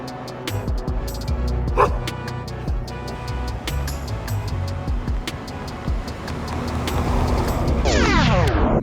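Dogs bark in short sharp bursts on a city street at night in Rajasthan, several barks spaced irregularly over background traffic hum, a passing vehicle swelling near the end.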